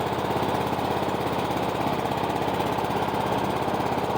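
A cheap Craftsman riding lawn mower engine running steadily close by, a constant rough chugging drone with fast knocking pulses and no talk.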